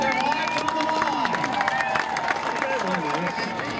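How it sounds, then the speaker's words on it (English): Crowd at a Tea Party rally in St. Louis claps and cheers for service members, a dense, steady wash of applause with shouts mixed in across the whole stretch, loud and close. "Please stand up and give a round of applause for our service members"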